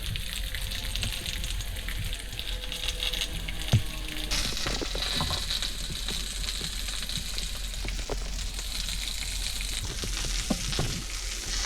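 Steady, crackling sizzle of food frying with olive oil, salt and pepper on a hot grill pan, with occasional soft clinks and pops, continuous throughout with no talking.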